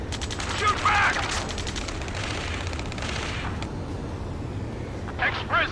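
Gunfire in Ace Combat 7 ground battle, a steady rattling fusillade with heavier booms, running under shouted combat radio voices throughout.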